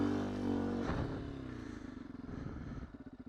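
A 2019 Beta 125 RR-S dirt bike riding flowy singletrack, its small engine droning and revving at moderate distance, with a clattering dip partway through before the engine settles into a pulsing, throttled beat.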